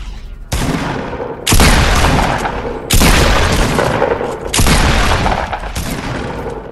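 Pump shotgun blasts in the video game Fortnite, four loud booming shots spaced about a second apart, each with a broad crack and a long reverberant tail, no talk over them.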